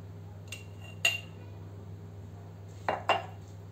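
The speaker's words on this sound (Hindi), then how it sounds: "अब इस जार में मैं इसे डाल दूंगी।" Mixed karonda and green chilli pickle is spooned into a jar, with a few sharp metal-on-glass clinks close by, spaced apart, then a quick double tap near the end.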